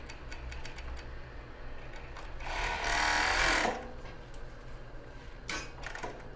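Sewing machine stitching bra fabric, with a fast run of stitching rising in the middle between quieter ticks and handling clicks, all close and fairly soft.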